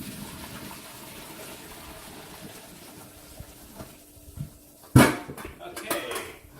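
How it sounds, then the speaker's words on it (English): Water drained from a pot of stuffed peppers on a stove, a sudden loud gush and splash near the end with lighter pouring after, preceded by quieter kitchen sounds with talk in the background. "We're going to drain the water out of here."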